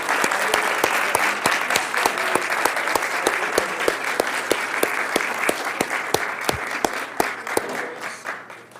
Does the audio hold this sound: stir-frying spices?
no